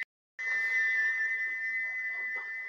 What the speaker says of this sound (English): but he was whistling until two fitters climbed up and knocked his whistle valve in place.